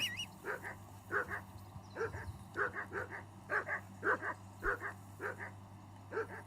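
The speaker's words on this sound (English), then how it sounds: "Henry, whistle at that mutt of yours to stop barking." Repeated yappy dog barks come in quick doubled bursts at a steady pace, moderately loud over a low background hum, in the video game Kingdom Come: Deliverance II.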